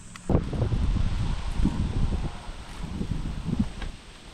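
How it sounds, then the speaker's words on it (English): A light breeze blows across an open food plot field outdoors, a steady windy rush buffeting the microphone with soft low gusts throughout. "thankfully it's a little breezy today"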